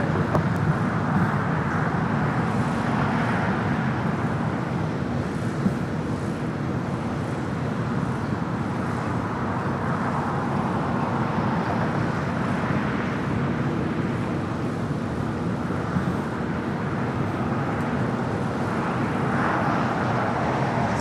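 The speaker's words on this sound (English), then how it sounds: "It's an 11-year-old 787-9 Dreamliner." Steady broadband roar of a Boeing 787-9 Dreamliner, eleven years old and in older livery, arriving at LAX in Los Angeles, sustained and fairly loud throughout with some wind noise and no talk.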